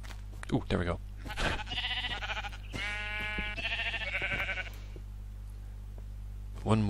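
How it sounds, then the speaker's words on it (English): Sheep in the video game Minecraft bleat several times in a row, clear and close, with soft game sounds between the calls. "One more sheep."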